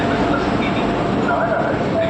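An Erode shed WAP electric locomotive hauls a passenger train past a station platform, a steady loud rumble of wheels and carriages with voices talking over it.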